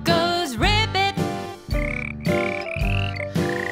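A playful frog croaks 'ribbit' in a children's nursery rhyme song. Clear, bouncy croaks repeat in rhythm over an upbeat musical accompaniment.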